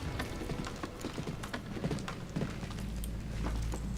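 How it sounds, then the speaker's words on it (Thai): Rain falling in the video game Valiant Hearts, a soft continuous patter with scattered heavier drops and a low rumbling bed, steady throughout with no talking over it. "โอ้ฝนตกครับ"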